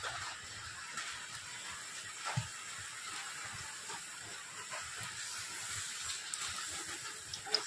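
Potato slices frying in hot oil for homemade crisps, a steady close sizzling hiss with scattered small pops and crackles.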